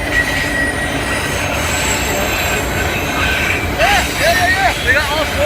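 A CSX auto rack freight train led by KCS and UP locomotives rumbles past nearby, wheels squealing in rising and falling shrieks over a continuous rolling roar and clatter of cars.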